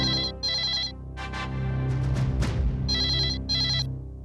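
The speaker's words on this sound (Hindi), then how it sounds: "hello, Bajaj residence" A telephone bell rings in loud, repeated bursts, two short rings, then a brief lull before two more rings follow, heard alone and close.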